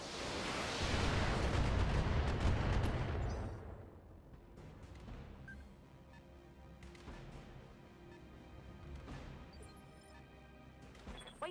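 Heavy mech weapons fire in the video game Battletech: a loud, dense burst of booming impacts for the first few seconds, then a quieter rumbling battlefield tail with scattered smaller hits and crackles.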